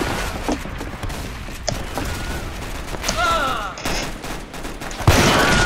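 Trooper gunfire in the Roblox game Typical Colors 2, with bursts of shots, thumps and explosive blasts scattered through a busy game mix, ending in a louder blast.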